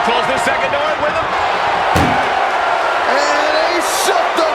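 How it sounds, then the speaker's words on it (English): An ambulance door slams shut with a single sharp, loud bang in WWE 2K25, heard over a roaring arena crowd and continuous commentator talk. "they shut the door and have won this ambulance match"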